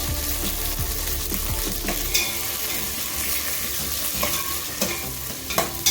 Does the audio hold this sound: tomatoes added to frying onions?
yes